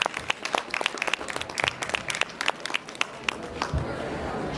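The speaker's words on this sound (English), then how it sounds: "Give her a round of applause" A crowd applauds with steady, crisp clapping that gradually thins out toward the end.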